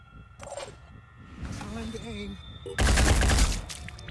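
Gunfire in the turn-based strategy game Phoenix Point, a few scattered shots followed by a loud dense burst of rapid fire near the end, with faint game sounds between.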